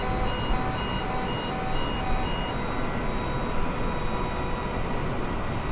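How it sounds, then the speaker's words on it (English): Flap overspeed warning alarms in Microsoft Flight Simulator 2020 aboard a big heavy airliner: repeating electronic beeps pulse in a steady rhythm over a constant loud engine and airflow drone. "Those alarms are speed warnings for the flaps."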